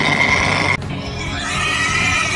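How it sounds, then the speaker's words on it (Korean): Zerg unit cry from the StarCraft video game, built from a modified pig recording, a loud squealing, neigh-like call that cuts off sharply under a second in, followed by a dense steady game-noise bed. "저글링과 울트라 리스크 소리는 돼지 소리를 녹음,"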